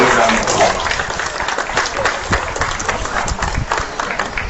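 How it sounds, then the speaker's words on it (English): Spectators at a market hog show judging clap for the exhibitors, a loud, dense round of applause that runs throughout with scattered sharper claps and a little crowd murmur. "let's go ahead and give all these exhibitors in this class a big round of applause."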